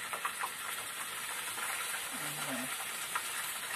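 Kentucky-style chicken and parboiled chips frying together in a pan in a galley aboard a Hurley 9.5 motorsailer: a steady, even sizzle and hiss throughout, fairly faint, with a brief low murmur partway through.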